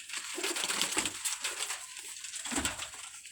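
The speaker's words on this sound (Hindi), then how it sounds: "ये देखें जी कबूतर" Pigeons from a breeder's club cooing in low, soft pulses, several short coos rising now and then over a steady bright hiss of background noise, fairly close.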